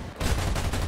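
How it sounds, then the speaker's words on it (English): Video game aircraft guns open fire in a loud, dense burst of rapid automatic shots, a continuous roaring clatter that starts abruptly and carries no talk. "Let's open fire."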